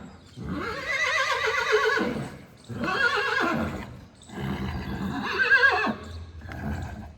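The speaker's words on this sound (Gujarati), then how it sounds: "ઘોડો" A horse neighs and whinnies loudly and close by in three long calls separated by short pauses.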